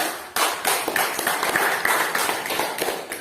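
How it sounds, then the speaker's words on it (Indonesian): A class of students in an Islamic religious education lesson claps hands together, a ragged burst of individual sharp claps from a smallish group, close and fairly loud, tapering slightly toward the end. "tepuk tangan tuh kita"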